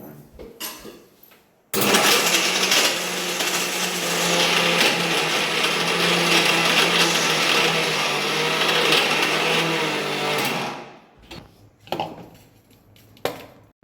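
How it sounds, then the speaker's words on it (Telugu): A mixer grinder labours loudly on coarsely crushed palm jaggery, droning steadily for about nine seconds and then cutting off, with brief clatter before and after. "అట్టి బెల్లం కచ్చాపచ్చాగా దంచుకొని మిక్సీలో వేసినవంటే మిక్సీ బ్లేడ్ ఎగిరిపోయేలాగా ఉందనమాట"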